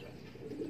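Pigeons in a loft give a brief, soft low coo, faint and close, with no voices.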